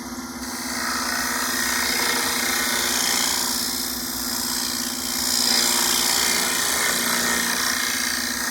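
Wood turning scraper with a negative grind cutting a cornice on a lathe, a steady rough scraping drone with a humming tone that runs without a break for the whole stretch.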